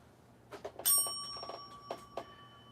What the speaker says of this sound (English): Oh, I got a bell.